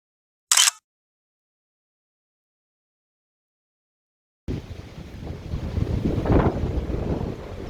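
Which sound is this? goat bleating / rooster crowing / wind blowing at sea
wind blowing at sea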